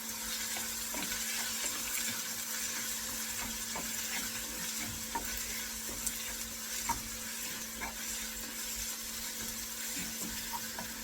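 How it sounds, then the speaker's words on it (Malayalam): Spiced meat fries in a pan while being stirred, a loud steady sizzle running throughout with small scraping stirs now and then and no talking. "നന്നായിട്ടൊന്ന് ഇളക്കി കൊടുക്കാം"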